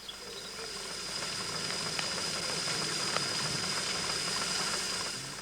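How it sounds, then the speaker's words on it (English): Model agricultural steam engines at work, a steady broadband hiss and rumble of steam running throughout, fairly constant in level with faint mechanical ticks. "most of the power came from agricultural steam engines, just as it did in the last century. And here they all are, once again hard at work."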